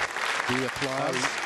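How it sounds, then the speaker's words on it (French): Sustained applause fills a rocket launch control centre at Jupiter as Galaxy 15 separates from an Ariane launcher, a dense steady clapping crowd throughout with a brief voice rising over it in the middle. "c'est un tonnerre d'applaudissements ici à Jupiter"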